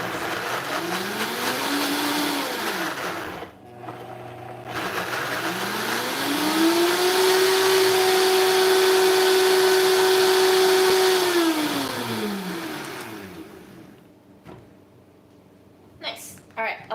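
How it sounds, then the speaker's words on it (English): A Vitamix blender runs on its lowest setting, whirring up from a start, holding a steady loud motor hum through the middle, then winding down near the end. "just put your Vitamix on the lowest setting and let it spin"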